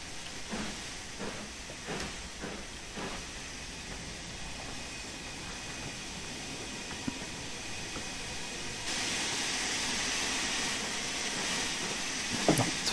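A steam locomotive in Train Sim World 3 on the Peak Forest line from Ambergate to Chinley hisses steadily, with cylinder cocks open and no voices. The hiss grows louder partway through, with faint clanks early on.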